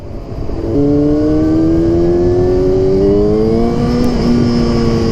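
A Yamaha R6 sport motorcycle engine rises in pitch as it revs up hard, the loud, close whine climbing steadily through the gears with no talk over it.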